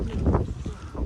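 Strong wind gusts through Marpha village in Mustang, Nepal, a brief, close, buffeting low roar that swells and eases across about a second.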